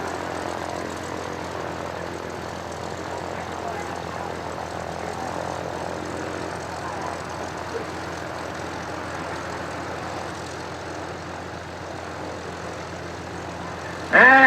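A propeller airplane makes a low pass at an air show in Vinton County, its engine drone holding steady and fairly loud for the whole stretch. A sharp burst comes right at the end.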